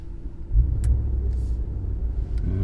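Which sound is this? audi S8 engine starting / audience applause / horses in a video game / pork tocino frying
audi S8 engine starting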